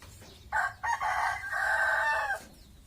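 A rooster crows once near the microphone in a rural field setting, a loud drawn-out call with a brief stutter at the start, over quiet background.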